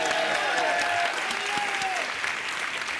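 Game-show studio audience applauding the tax inspector, a loud sustained burst of clapping that eases slightly, with a voice speaking over it.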